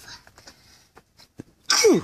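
Quiet background murmurs give way to a single short, sharp sneeze at the end, close and fairly loud.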